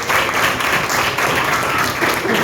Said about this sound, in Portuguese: salva de palmas para o último grupo aí